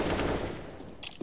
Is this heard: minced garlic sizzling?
no